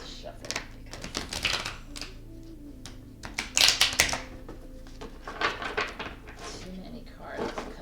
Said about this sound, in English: I'm going to do a little shuffle.